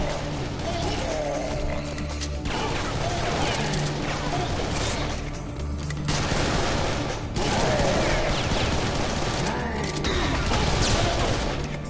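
Rapid shotgun and weapon fire in the Serious Sam 3 first-person shooter, dense loud bursts of shots and crashing impacts running almost continuously, with brief pauses, amid busy combat noise.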